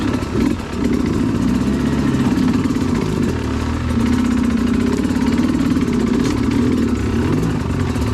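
An enduro motorcycle engine working a hard enduro track, loud and near, holding a rough mid-pitched drone with small rises and dips in revs, steady throughout with no speech.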